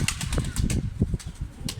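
A platinum-coloured pigeon flaps its wings while landing on a coop ledge, a close series of rapid, uneven whooshing wingbeats.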